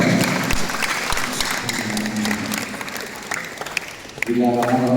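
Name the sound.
audience applause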